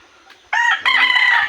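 A backyard rooster lets out a loud, close crow that starts abruptly and holds steady to the end of the short stretch.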